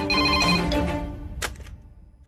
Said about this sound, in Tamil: சார் போன் அடிக்குது சார்.